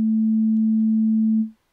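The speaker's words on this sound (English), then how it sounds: "Let's start with a simple sine wave." A pure, steady sine tone from a MOK Wavewazor Eurorack synthesizer module sounds alone, holding one low pitch for about a second and a half before fading out smoothly.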